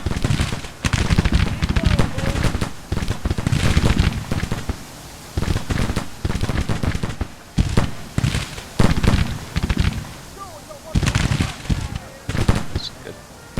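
Musket volleys crack out in the Civil War strategy game Grand Tactician, loud ragged bursts of massed gunfire rolling repeatedly across the battlefield, some overlapping, with no voices over them.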